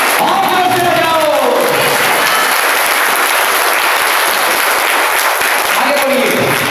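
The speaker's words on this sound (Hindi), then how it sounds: "यीशु मसीह के लिए ताली बजाओ, और जोर से बजाओ।" Church congregation applauding for Jesus during a worship service, a dense, loud, sustained wave of clapping with crowd noise and cheering throughout, a preacher's voice briefly audible at the start and end.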